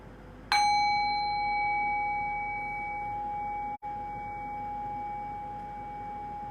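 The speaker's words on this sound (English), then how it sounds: "Okay, so I'll ring the bell, and here we go." A single meditation bell is struck once, giving a bright metallic onset and then a pure, sustained ring that slowly fades over several seconds, alone in a quiet room.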